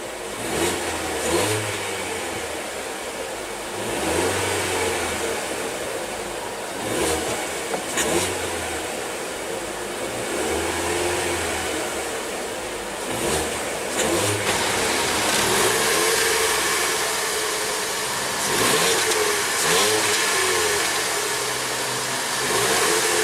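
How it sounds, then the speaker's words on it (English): A 2015 Ford Fiesta SE engine repeatedly revs up and settles back to idle over about twenty seconds, heard close and fairly loud with no talking. "let's go ahead and rev it up"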